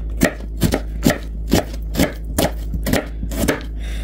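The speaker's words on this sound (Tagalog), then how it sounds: "so i-slice natin yung ating onion na malaki" A knife slices through a large onion on a cutting board, about ten sharp, evenly spaced chops ringing out close and crisp, alone without any talking.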